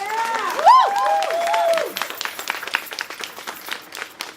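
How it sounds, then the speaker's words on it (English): Audience applause at a Pride Month community celebration: a few high whoops or whistles at the start, then scattered clapping that gradually thins out. "I think for that, it deserves a round of applause."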